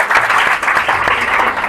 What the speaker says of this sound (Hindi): तालियां हो जाए यार।